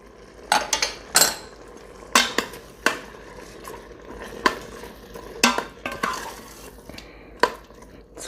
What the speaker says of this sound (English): It's crumbled paneer, 500 grams. A quick stir.